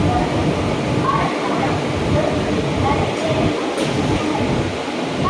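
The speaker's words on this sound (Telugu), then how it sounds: "17643 చెంగల్పట్టు నుంచి కాకినాడ పోర్ట్ వెళ్ళే సర్కార్ ఎక్స్ప్రెస్లో చెంగల్పట్టు నుంచి చెన్నై ఎగ్మోర్ వరకు ట్రావెల్ చేయబోతున్నాం" Aboard the 17643 Circar Express running from Chengalpattu toward Chennai Egmore, a loud, continuous rumble of the moving train fills the space with steady rolling noise and faint rhythmic wheel beats.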